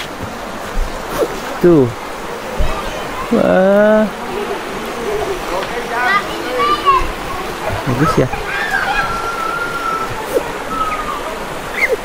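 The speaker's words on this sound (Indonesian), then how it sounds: "Tuh lihat sungai." A river flowing at a camping ground in Ciwidey, Bandung, making a continuous rushing wash heard under frequent close talk and exclamations from people nearby.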